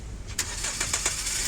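A Hyundai Sonata engine cranks and catches after a fuel filter replacement and gas tank cleaning, with a few quick clicks and starter whirs that settle into a steady close idle hum.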